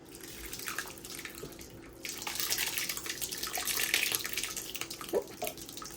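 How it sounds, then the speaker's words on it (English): Thick meat sauce pouring out of a Dutch oven, a continuous wet splashing and glugging pour that builds midway and carries on steadily, close to the microphone, with no talking over it. "So this is the meat sauce right here, okay? So it's just been simmering away, waiting patiently. We're going to go ahead and pour."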